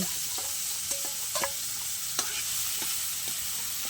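Food sizzles steadily in a hot pan, sautéed on a home stove, with scattered utensil scrapes and taps as it is stirred; moderately close, no talk.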